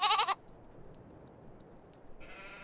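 Goats in Farming Simulator 22 let out a short loud bleat, then after a quiet stretch with faint ticks a second bleat begins, both close and with no talking.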